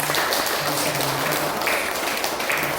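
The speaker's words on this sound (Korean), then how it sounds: "한 번 더 박수하겠습니다." Congregation clapping together at a church gathering, a dense steady patter of many hands throughout a short stretch, fairly close, with faint voices underneath.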